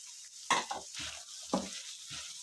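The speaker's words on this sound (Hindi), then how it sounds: "ये अब हमने शिमला मिर्च डाल दी है।" Diced bell pepper being stir-fried in a pan for chicken macaroni: a few scraping spatula strokes over a soft, steady sizzle, close and fairly quiet.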